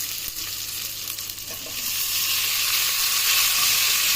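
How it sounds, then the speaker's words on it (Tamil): Tomatoes for a drumstick sambar hit hot oil with softened onions in a pan, a steady loud sizzle and hiss that swells midway and keeps frying on its own. "இப்போ நம்ம தக்காளி போட்டுக்கலாம்."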